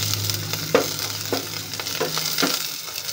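Sardines fry in a pan with a steady crackling sizzle, broken by several sharp scraping stirs that come at irregular intervals, close and moderately quiet.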